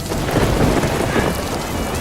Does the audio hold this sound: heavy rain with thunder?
yes